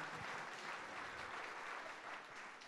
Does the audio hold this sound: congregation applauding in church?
yes